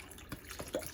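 Beef broth poured from a carton into a cooking pot of ramen ingredients, soft gurgling liquid splashes with a few distinct plops, close and fairly quiet.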